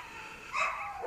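A dog in a difficult-dog training session gives a short bark or yip, fairly close, with faint background noise and no talk over it.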